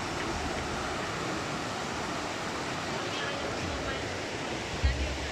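A river in a forest at Kapong, Thailand, keeps up a steady, broad rushing flow from start to end, with a brief low thump near the end and no talk.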